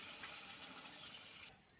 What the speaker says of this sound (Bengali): তো এবারে আমি জলটা দিয়ে দিচ্ছি।